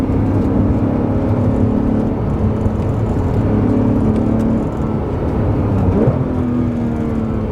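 A Porsche 911 R engine hums steadily from inside the cabin, its tone shifting slightly as revs rise and fall, with a low exhaust drone throughout.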